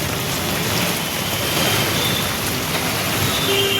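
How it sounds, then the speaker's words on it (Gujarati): Heavy morning rain falling in Surat, a dense, steady hiss of drops that stays loud and unbroken throughout, with no voices. "સુરતમાં સવારમાં વરસાદ પડ્યો છે"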